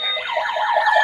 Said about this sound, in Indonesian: Wow, ada bunyi sirine pemadamnya.